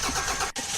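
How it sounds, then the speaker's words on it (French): A car engine cranks and catches in a short, loud burst of mechanical churning with a brief dip partway through, heard alone without talk. "je vais démarrer le moteur"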